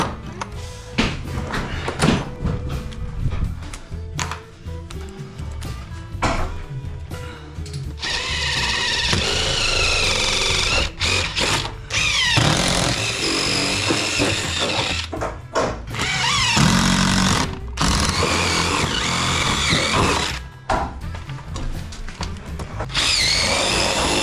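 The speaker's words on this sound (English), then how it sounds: "I drilled holes where we need to cut" A power drill bores holes through a wall during a master bedroom remodel in a new home. Loud drilling runs in long stretches, broken by short pauses and knocks.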